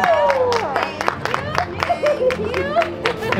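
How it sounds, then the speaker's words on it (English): Crowd at Disneyland's Avengers Campus claps and cheers while a loud voice talks over it, the applause a steady wash beneath the speech throughout. "You deserve some applause."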